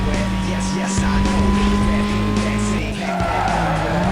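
A fast car races in the video game Need for Speed Most Wanted, its engine roaring loud and unbroken. The pitch climbs and shifts throughout, with faint tire noise underneath.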